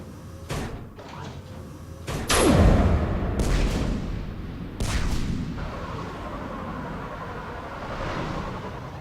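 Heavy guns fire in a Mass Effect 3 battle to breach an enemy perimeter, with loud booming blasts around the two-to-three-second mark and again near five seconds, each trailing into a rumbling, noisy background.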